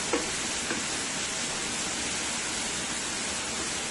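Seasoning cooks in a pot with a continuous broadband sizzle and hiss, steady and close, with a couple of faint knocks near the start and no talking.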